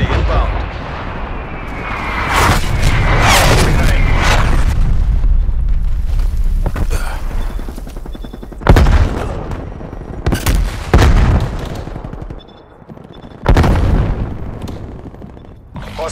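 Artillery strike explosions in a multiplayer war video game, loud booming blasts arriving in several bursts over continuous battlefield noise, with a few sharp impacts standing out near the end.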